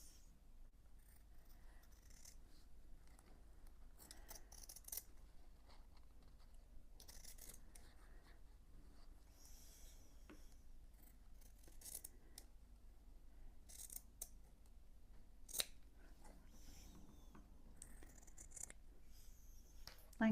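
Scissors snipping around flower and bird motifs in Liberty quilting scrap fabric, quiet, close and intermittent short cuts with soft rustling of cloth in between.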